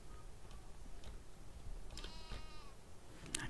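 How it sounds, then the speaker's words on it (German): Sheep bleating in the farming game Landwirtschafts-Simulator 19, a single quavering cry of about half a second over a steady background hiss, moderately faint. "Sogar ein Schaf, ey."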